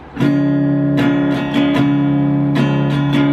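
Acoustic guitar strumming chords, steady and close, with sharp strum attacks recurring every half second or so and chords ringing between them.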